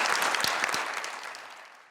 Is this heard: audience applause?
yes